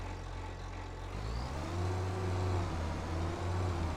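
A tractor engine in Farming Simulator 25 hums low and steady, lifting in pitch partway through as it pulls harder, then holding a smooth drone with no voices over it.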